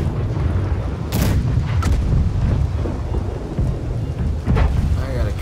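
Ship cannon fire in Blackwake, a naval battle game during a storm: deep booms and rumbling blasts over a constant roaring wash of wind and rain, with a few sharper cracks standing out.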